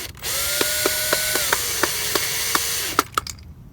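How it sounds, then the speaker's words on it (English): Screws being driven into a part from a 1972 Chevy C10 short bed truck with a 454, using a power driver: a steady whirring whine broken by regular ratchet-like clicks, ending in a few sharp final clicks. "I'm going to screw it together so I don't lose the screws that are inside here."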